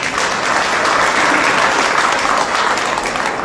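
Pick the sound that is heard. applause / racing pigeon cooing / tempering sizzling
applause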